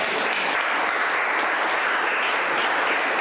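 A church congregation breaks into sustained applause, a dense, steady wash of many hands clapping throughout with no talking over it.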